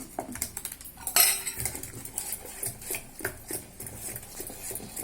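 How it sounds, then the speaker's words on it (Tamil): Grated carrots being stirred into green moong dal dosa batter in a bowl, with repeated light clinks and scrapes of a spoon against the dish, close and steady, with no talking. "இதில் கேரட்டையும் இப்போ கலந்து தோசையை ஊற்றலாம்."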